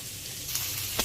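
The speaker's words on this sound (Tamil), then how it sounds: "கொத்தரவங்காய் வெங்காயம் எல்லாம் நல்லா வதங்கிடுச்சு" Cluster beans and onion sizzle in a pan, a steady soft frying hiss with a couple of brief crackles and stirring, no talking.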